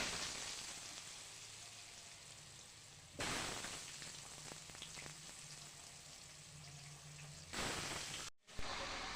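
Whole dried red chillies, bay leaf and cumin seeds frying in hot oil in a kadai, a steady dense sizzle that surges louder partway through as the spices are stirred, close and continuous with no talking.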